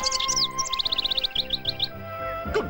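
A small bird chirps in a quick run of bright, evenly spaced tweets, with a few scattered calls before them, all over a soft steady musical background.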